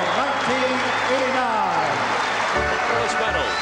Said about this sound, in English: let's have a big round of applause for South Bend St. Joseph's and Floyd Central state finalists